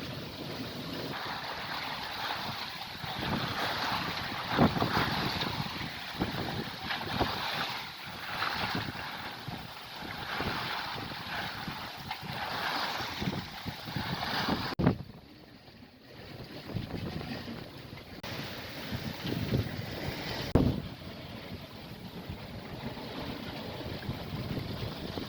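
Sailboat underway in a force 4 to 5 headwind with a reefed genoa, gusting wind buffeting the microphone over rushing water and slapping waves, with a short lull in the middle before the gusts return.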